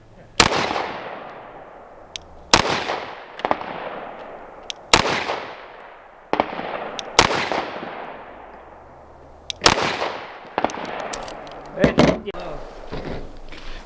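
Rock Island 2011 pistol fired in a slow series of about seven sharp, loud shots at a range, each crack followed by a decaying ring, with gaps of one to three seconds between them.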